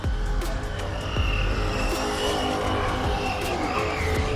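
Ride-on, full-motion real-life RC-style car holding full throttle through a lap, its engine a steady, loud, continuous drone with a constant buzzing roar and no letting off.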